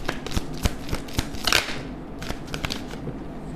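A deck of tarot cards being shuffled, giving a brisk run of crisp papery riffles and snaps, close and fairly quiet, with a denser burst partway through and no voices.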